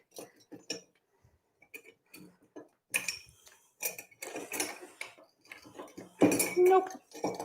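Metal teaspoon clinking and scraping against a jar and nearby dishes in a kitchen, a string of sharp irregular taps and rattles that build toward a louder clatter near the end, with some quiet talking mixed in.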